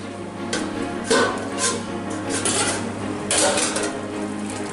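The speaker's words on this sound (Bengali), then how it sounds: "এবার আমি কড়াই ঢেকে দেবো।" A metal lid is set on a kadai while jackfruit prawn curry cooks, giving a few close clanks and scrapes of cookware over a low, steady background hum.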